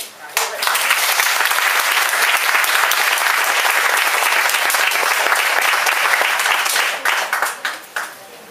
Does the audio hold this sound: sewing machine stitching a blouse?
no